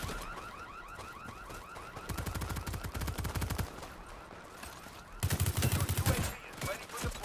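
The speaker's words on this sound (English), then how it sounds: "I shot you, Hali." Video game gunfire from the World War 3 shooter, with bursts of rapid automatic shots in clusters over a sustained mechanical whine, growing louder and denser toward the end.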